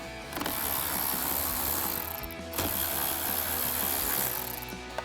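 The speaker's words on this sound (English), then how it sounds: "we're just gonna grab our ratchet and a 10mm socket. We're gonna take off this nut here and this nut here." A ratchet with a 10mm socket loosening battery terminal nuts on a Jeep Wrangler JL, a fast continuous clicking in two close bursts separated by a brief pause.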